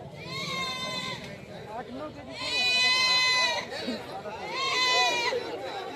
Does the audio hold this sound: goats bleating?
yes